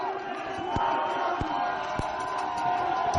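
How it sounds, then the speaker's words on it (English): Fans at a Concordia Stingers university football game cheering and roaring after a win, a dense crowd din with scattered shouts and whoops and a few sharp thumps. "the crowd is going crazy"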